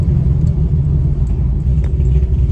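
A car with a new transmission cruises at about 45 mph with its windows down, giving a steady, loud low rumble of engine and road noise with wind, and no one talking.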